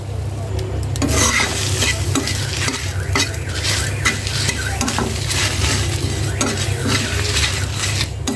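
Whole spices (dried red chilies, coriander, cumin, panch phoron and a few black peppercorns) frying in a pan, a loud, close sizzle with constant rhythmic scraping and stirring of a utensil against the metal.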